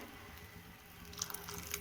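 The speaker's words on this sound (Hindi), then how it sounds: "मैं इसमें जो है 1 टेबल स्पून कॉर्नफ्लावर को पानी में घोल के डाल रही हूँ" Cornflour stirred into water is poured into a pot of mixed vegetable soup at a full boil, giving a faint, soft liquid trickle with a few light drips near the end, with no talking.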